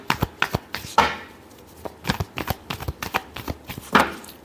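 Tarot cards shuffled by hand in quick bursts, crisp riffling slaps and flutters repeating close up, with no talk over them.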